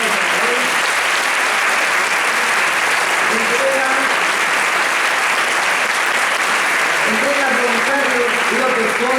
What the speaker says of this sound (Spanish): preparad las manos porque vamos a aplaudir